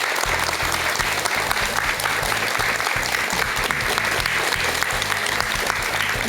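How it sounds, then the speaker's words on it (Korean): A seated audience applauds a monk after his talk, with a dense, steady clapping that holds loud and even throughout. "우리 회의 스님께 여러분 큰 박수 한번 부탁드릴게요."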